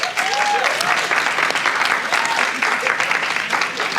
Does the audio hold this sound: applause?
yes